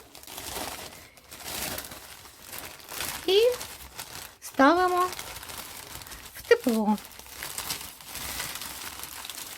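Plastic bag crinkling rustles in short bursts near the microphone while someone talks calmly over it, while sowing tomato seeds for seedlings.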